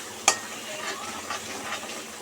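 Spices and turmeric frying in oil in a pan for a Telugu-style fish curry, a sharp clatter near the start followed by a soft, steady sizzle with faint stirring scrapes.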